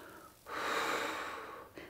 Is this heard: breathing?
yes